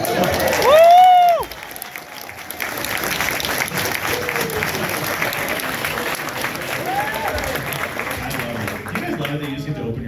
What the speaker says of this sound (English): Do you guys love it that you just get to open your mouth and people applaud?